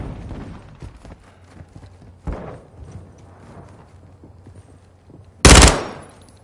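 Machine gun fire during a Call of Duty MW2 multiplayer match: several short bursts and thuds over a background of battle noise, with a sharp, very loud burst near the end.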